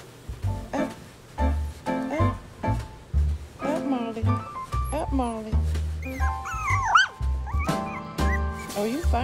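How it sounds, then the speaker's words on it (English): A small Yorkshire terrier puppy yips and barks in sharp bursts, mixed with whimpers and high whines, close by, while a person talks over it. "Y'all hearing her barking?"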